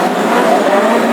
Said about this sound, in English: engines firing up, coming into life now